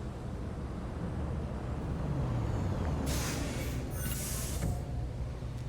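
A city bus in Detroit: Become Human releases a sharp hiss of air brakes over a low rumbling street ambience, the hiss coming in two bursts near the end.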